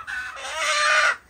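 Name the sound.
rooster clucking on a farm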